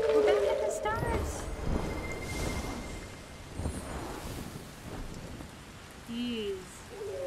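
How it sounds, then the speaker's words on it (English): Rain falls in the game Sky: Children of the Light as a soft steady patter under an excited voice talking near the start, with some brief game chimes around it. "I hear rain."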